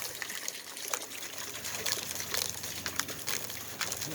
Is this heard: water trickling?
yes